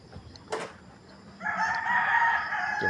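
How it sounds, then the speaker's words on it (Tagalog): A labuyo red junglefowl rooster crows once near the end, a short clear call following a brief knock, fairly close in a quiet outdoor setting with no talking. "Titingnan natin yung kanyang labuyo na sinasabi."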